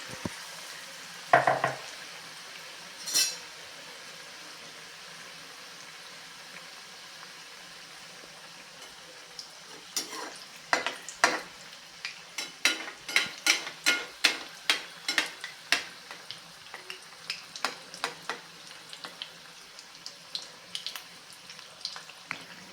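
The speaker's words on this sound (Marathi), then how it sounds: "मी बटाटे वडे छान तळून घेतलेले आहेत" Potato vadas deep-fry in oil for vada pav. After a quiet start with a couple of clinks, soft crackles and pops build into a dense, steady bubbling.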